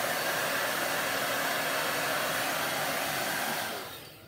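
A blow dryer runs steadily with a loud, close whooshing hum while drying chalk paint on a small metal bucket to make it crack, then its airflow fades away near the end.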